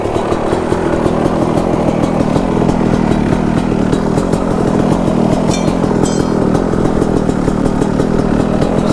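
A Kawasaki KX250 dirt bike engine roars continuously at high revs while being ridden, a loud, raspy buzz with slight throttle fluctuations across the whole stretch, no voices.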